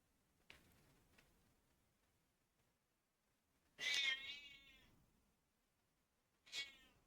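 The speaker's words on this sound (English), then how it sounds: "And now my cat is screaming." A house cat screams indoors in loud, drawn-out yowls, one long wailing cry followed a few seconds later by a shorter one, with faint thumps before and near silence between.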